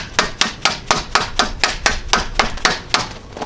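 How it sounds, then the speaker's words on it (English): A dead blow hammer taps a retractable door housing into place, about a dozen sharp, evenly spaced knocks in quick succession, close and loud with no talking. "take your dead blow hammer and you can tap it in"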